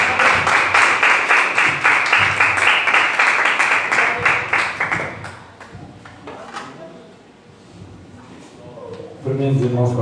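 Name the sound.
congregation applauding in church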